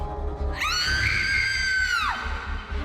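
A woman's drawn-out, high-pitched scream of horror cuts in sharply and holds steady for about a second and a half before breaking off, loud and close over a low rumbling background, in a sci-fi horror story set aboard a wrecked spaceship.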